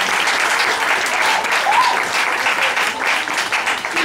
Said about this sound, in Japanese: もう拍手を皆さん